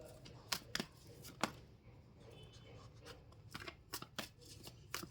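Tarot cards shuffled and drawn by hand during a reading, with a series of crisp, close riffling and snapping bursts at irregular intervals over a quiet room.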